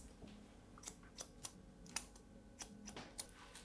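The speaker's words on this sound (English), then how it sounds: "I'm going to bring this section and cut this just below the round of the head" Scissors snip hair during a haircut, a series of quiet, crisp clicks at an irregular rhythm, close and faint with no talk.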